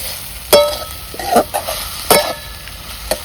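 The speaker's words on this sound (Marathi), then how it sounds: "मस्तपैकी मिरची परतायची चालली मित्रांनो." Green chillies sautéed in a pan, with a steady sizzle broken by several sharp scraping and stirring clatters of a spoon against metal, close and fairly loud, with no talking.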